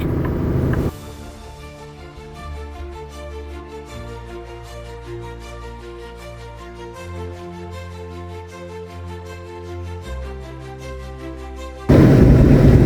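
A truck driving along a snowy highway toward Sault Ste. Marie, a steady low engine rumble with road drone heard from inside the cab, shifting pitch as it travels, with louder bursts of noise at the start and end.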